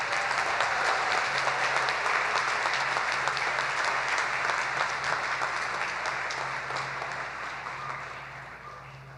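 A commencement audience in Albany applauds the graduating class of 2022, dense continuous clapping from a large crowd that holds steady and then gradually fades toward the end.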